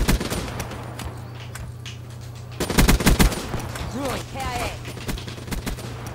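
Rapid automatic gunfire from the Call of Duty Black Ops 3 multiplayer game rattles in a dense burst, loud and close, then trails off into game effects over a steady background hum.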